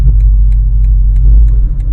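BMW M8 Competition reversing during automatic self-parking, a loud steady low engine rumble close by with faint regular ticking, no talk.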